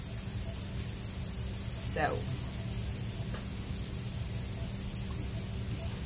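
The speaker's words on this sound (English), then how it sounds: "It is getting heavy rain out there." Heavy rain hisses steadily outside as a constant dense wash of noise, with a brief voice heard once over it during an indoor painting session.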